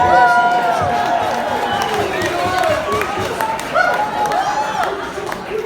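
Wedding guests applaud and cheer as a crowd in a reception hall, steady clapping throughout with whoops and voices mixed in over a busy room.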